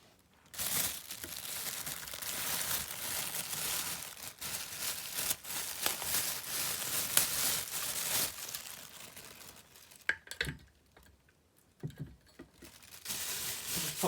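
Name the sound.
unwrapping a USB desk fan from its plastic bag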